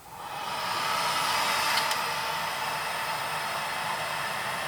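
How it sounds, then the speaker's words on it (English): A heat gun blows hot air over vinyl on a pebble pendant, giving a steady, close, airy roar that swells in over the first half second and then holds evenly. "I'm just going to warm it up with a heat gun."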